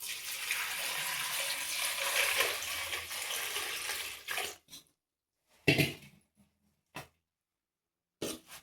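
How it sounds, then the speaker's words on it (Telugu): Gongura leaves being rinsed in water, a steady splashing and trickling wash for about four seconds, then scattered brief splashes and clatters separated by silence. "ముందు కడిగి వేసుకుందామండి."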